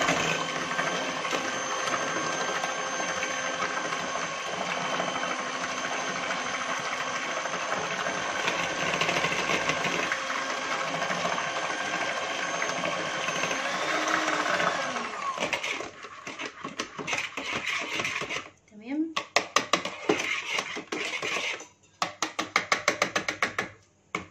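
Electric mixer whirring through strawberry cake batter, a steady high-pitched motor drone for about fifteen seconds, then choppier stop-start buzzing with brief pauses, close and loud.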